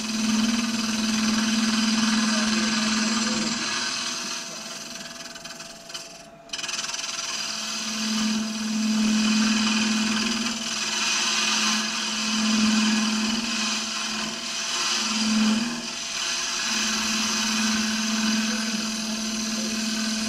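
A wood lathe spins a baby rattle while very light cuts are taken, giving a steady motor whir with recurring scraping passes that fade and return, with a brief pause partway through and no talking.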